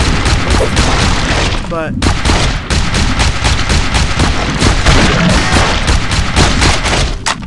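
Rapid, continuous gunfire from a player's weapon in SAS Zombie Assault 4 forms a dense, loud rattle of overlapping shots with booming impacts, almost unbroken, while a voice talks briefly over it.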